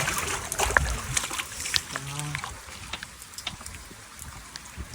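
Heavy rain in Kathmandu pours and splashes where runoff is blocked on a house roof terrace, an irregular patter of drops and sloshing water, with a faint voice briefly underneath.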